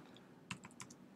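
A few quiet keystrokes tap on a computer keyboard as RGB colour values are entered, a quick irregular cluster of clicks over faint room noise.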